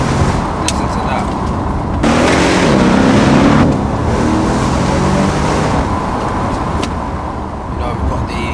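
A Mercedes S63 AMG Coupe on a private test track, its engine a loud, continuous close roar that swells in a brief surge of revs before settling back to a steady drone.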